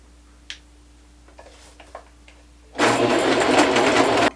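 A sewing machine test-stitches fabric scraps: a few soft clicks and handling noises, then a sudden loud, fast, rhythmic mechanical rattle that runs steadily to the end.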